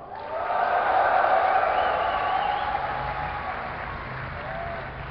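A large crowd at a DreamHack 2010 StarCraft II event applauds and cheers loudly for a while and then slowly tapers off, with some indistinct voices mixed into the noise.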